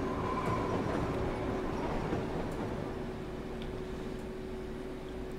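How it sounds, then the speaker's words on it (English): A train rolls steadily through a Cities: Skylines city, a continuous close rumble of wheels on track with a faint tonal hum over it and no talk. "Eventually we would see people using the trains."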